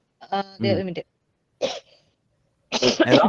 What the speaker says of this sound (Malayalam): എനിക്ക് ചുമ വന്നു പെട്ടെന്ന്